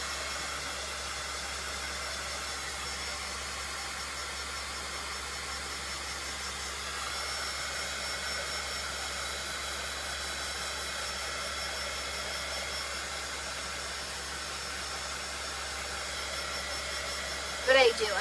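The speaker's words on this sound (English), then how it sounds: "So I'm going to just go ahead and dry this up." A hair dryer runs steadily at close range for the whole stretch, a continuous airy whir drying a painted Dollar Tree pumpkin for a Halloween plaid craft, with only a brief knock near the end.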